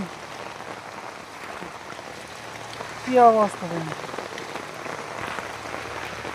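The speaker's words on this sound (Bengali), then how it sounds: "আর বৃষ্টি তো সারাদিন আছেই" Heavy rain falls on a rainy day as a steady, soft, even hiss throughout. A person speaks briefly over the rain partway through.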